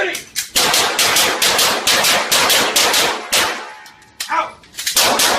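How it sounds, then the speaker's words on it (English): Firearm shooting during gun training: a rapid string of loud, sharp shots, mostly evenly spaced, with brief pauses and a shouted voice between bursts. "Shooting!"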